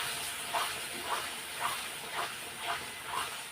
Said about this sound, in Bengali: এইদিকে দেখো কষানো হচ্ছে চাল মগজ কাজু বাটা দিয়ে।